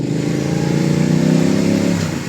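Big bike motorcycle engine revving nearby, a loud sustained throaty drone that swells slightly then eases off over a couple of seconds, with no voices.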